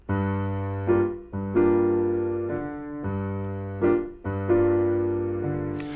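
Piano plays a repeated syncopated chord pattern from a song, sustained chords struck on off-beat accents with short gaps, clear and close with no talking.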